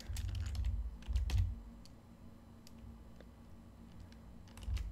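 Irregular clicking keystrokes on a computer keyboard, close and fairly quiet, in short bursts with brief pauses and a few low thumps, no talking.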